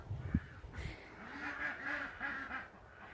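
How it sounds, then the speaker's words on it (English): Ducks quack in a greenhouse, a short run of several nasal calls at a moderate distance over a low background hum. "You can hear the ducks out in the greenhouse."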